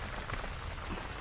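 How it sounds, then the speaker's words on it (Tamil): Steady rain falls during outdoor cooking in a village, a dense, even hiss of drops striking surfaces close by, filling the short moment with no voices over it. "நம்ம சமைக்கிற அன்னைக்கு தான் மழை வரணுமா?"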